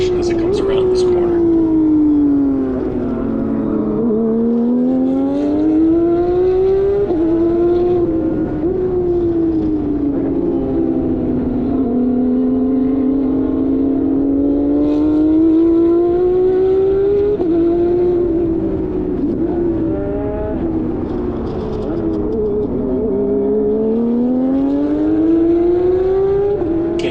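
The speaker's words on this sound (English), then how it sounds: "You can hear that whine on the transmission as it comes around this corner." Porsche GT race car with a sequential single-clutch transmission, its loud engine note rising and falling through a corner while a high transmission whine rides above it, continuous and close throughout.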